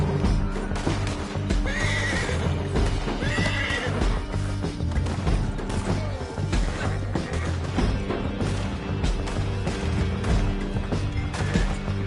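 Horses whinny repeatedly in Red Dead Redemption 2 gameplay over a busy, loud mix of hooves and clashing action noise, with no talk.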